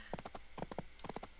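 Hooves clip-clop from a horse in the video game Barbie's Horse Adventure: Mystery Ride, sounding as quick, regular clusters of sharp, close clops with brief pauses between them and no talking.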